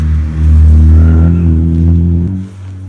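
A turbocharged car engine revving hard, a loud deep drone that holds steady, then drops sharply in pitch and level just before the end.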